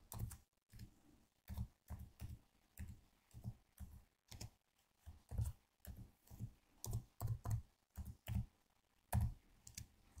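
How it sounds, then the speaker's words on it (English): Fingers tap a computer keyboard in quick, irregular bursts of soft clicks, close by and fairly quiet, with short pauses between flurries of keystrokes. "And I'm going to type it somewhere, anywhere here."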